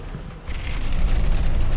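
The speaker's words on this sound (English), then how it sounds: "Wow, the road is covered with hail." Rain and hail drum steadily on a car driving along a hail-covered road on the way to Pagosa Springs, Colorado, the dense patter swelling louder after the first half-second and holding close and continuous with no talk.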